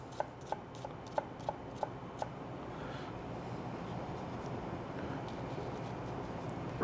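A knife chops shallot finely on a board, six or seven crisp, evenly spaced taps at the start, then only a quiet room hum.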